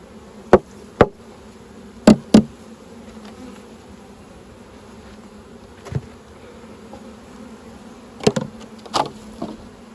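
Honeybees (Apis mellifera) buzz steadily around an open hive during an autumn Varroa check, a continuous drone with a handful of sharp knocks and clicks from hive equipment scattered throughout.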